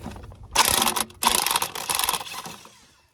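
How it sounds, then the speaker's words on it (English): A 20-year-old DeWalt battery-powered half-inch impact driver hammers at a bolt on a Caterpillar mini excavator swivel, with two close, loud rattling bursts of rapid impacts before the tool winds down. "I got my 20-year-old DeWalt battery-powered impactor."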